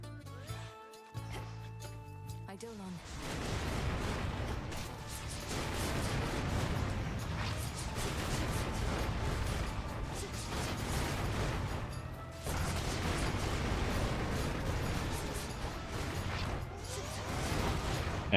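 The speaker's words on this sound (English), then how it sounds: "we got a lot of explosions and stuff" Dense, continuous combat noise from the video game Hades II, with repeated booming blasts and crashes layered over one another, loud and sustained after a brief quieter opening.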